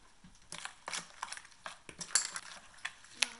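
A spoon stirring salt into a marinade for Vietnamese grilled BBQ pork in a bowl, giving soft irregular scrapes and light clinks against the dish, close and fairly quiet.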